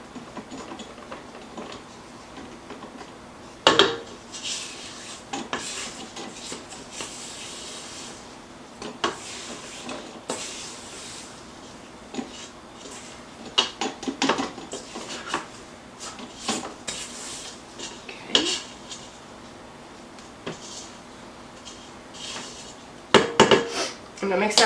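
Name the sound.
scraping mixing bowl and beater for cookie dough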